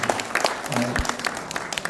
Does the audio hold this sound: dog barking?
no